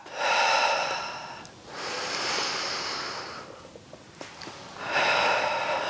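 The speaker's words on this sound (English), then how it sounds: "Inhale to roll back. And exhale as we come back up." Slow, loud breaths in and out through the nose and mouth during a Pilates reformer exercise, three long airy breaths close to the mic with pauses between them.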